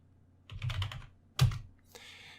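Keystrokes on a computer keyboard entering a short terminal command, heard as two close bursts of rapid clicks followed by a softer tap, fairly near with no speech.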